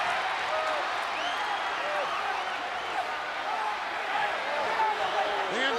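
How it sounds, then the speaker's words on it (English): A packed, standing-room-only wrestling arena crowd roars steadily at a WWE Survivor Series title match between Hulk Hogan and The Undertaker, with dense cheering, whistles and raised voices chanting for Hogan throughout. "Chant goes out by the standing room only crowd."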